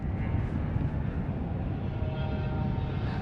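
Classic motorbikes racing at the Anglesey circuit, a distant, continuous low engine roar and drone that stays steady and fairly loud throughout, with no talk over it.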